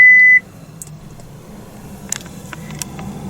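A loud, steady electronic tone sounds for about a third of a second when reverse is selected in a 2023 Mazda CX-3 1.5 Sport, then gives way to a quiet cabin with a few faint clicks.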